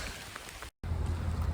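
Steady rain hisses outdoors near the summit of Mount Davis, Pennsylvania, on a cold hike back to the car. The wash is broad and even, with a short full dropout partway through, and no voices.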